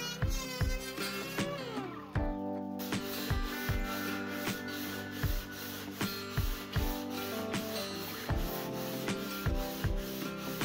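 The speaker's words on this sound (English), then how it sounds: "sanding this table with these drywall sanders by hand" Drywall sanders worked by hand across a resin table, giving repeated rhythmic rubbing strokes at close range over a steady background of music.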